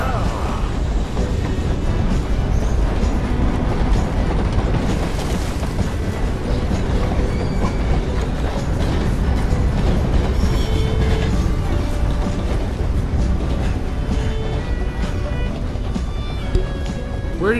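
Train passing in Red Dead Redemption 2, a loud, dense, continuous rumbling roar that holds steady for the whole stretch with no pause.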